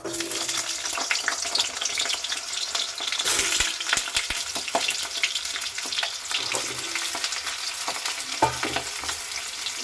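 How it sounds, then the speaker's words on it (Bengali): Pointed gourd (potol) dropped into hot mustard oil in a wok gives a loud, steady, crackling sizzle that lasts throughout. Occasional stirring clatters rise above the frying, and no one speaks. "এখন কড়াইয়ের তেল গরম হয়ে গেছে আর দিয়ে দিচ্ছি পটলগুলো।"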